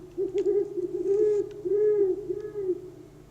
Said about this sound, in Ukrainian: Це у нас сова.